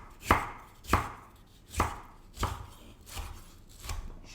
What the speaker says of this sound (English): So I'm just going to cut strips to start with, like that.